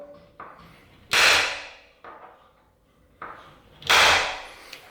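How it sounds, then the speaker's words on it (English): Center punch struck to mark drill holes for a towel rail bar, two pairs of sharp metallic taps each ringing out briefly, close and distinct with quiet between. "So we take our center punch,"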